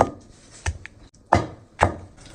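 Garlic pounded with a pestle in a mortar: three or four dull, woody thuds spaced roughly half a second apart, close and fairly loud against a quiet background.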